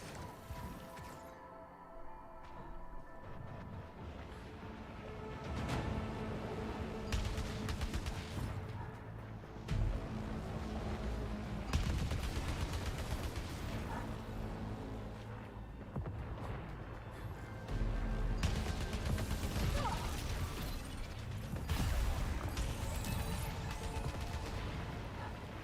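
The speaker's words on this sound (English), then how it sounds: "I don't know what's shooting at me." Gunfire and crashing impacts in the sci-fi shooter video game Returnal, with dense bursts of shots and blasts over a continuous loud game soundtrack throughout.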